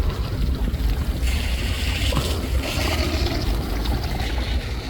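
Water gushes hard from a leak in a center-pivot irrigation system outdoors, a steady broadband rush with wind buffeting the microphone throughout and no clear speech.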